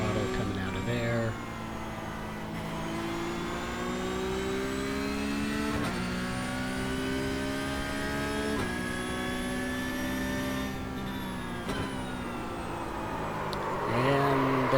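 Porsche Cup race car engine in iRacing at Spa, a steady loud drone rising through the revs with a few gear-change dips, then easing off near the end.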